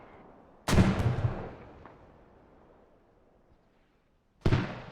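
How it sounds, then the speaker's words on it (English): Mortar fire in the Squad video game lands as two heavy, booming blasts a few seconds apart, each a sudden thump followed by a fading rumble and quiet between them. "I can't believe that all this is just 1 mortar doing this."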